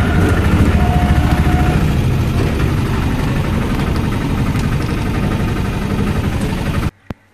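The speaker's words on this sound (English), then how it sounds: "Yes, we're taking a tuk-tuk." A tuk-tuk motor runs steadily with a close, buzzing, rattling drone on a ride in Mombasa, then cuts off abruptly near the end, leaving a brief click.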